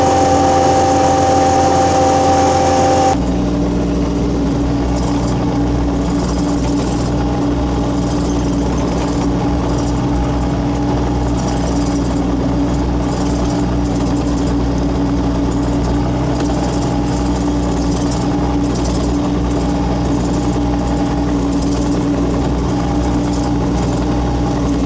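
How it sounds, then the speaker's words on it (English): A trencher's engine drones loud and continuous as its auger digs a 4 ft deep water line trench, the heavy mechanical rumble steady throughout after an abrupt start, with gritty scraping mixed in. "This auger will push it all to the side of the trench."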